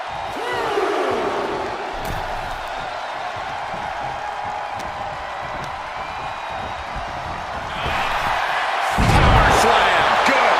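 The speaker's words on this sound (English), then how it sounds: "This capacity crowd is sending him love, and he's sending it right back." A capacity crowd at a televised wrestling event keeps up a loud, continuous roar throughout and swells louder near the end, while an excited commentator talks over it.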